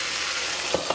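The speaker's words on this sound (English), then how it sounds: "So right now I'm cooking some chicken." Chicken sizzles steadily in a hot pan, a constant close frying hiss with a couple of brief scraping stirs near the end.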